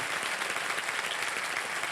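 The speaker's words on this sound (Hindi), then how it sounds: "एक बार फिर जोरदार तालियां बज जाएं इनके लिए।" Dense, steady applause from a TV quiz show studio audience, continuous clapping throughout at moderate volume.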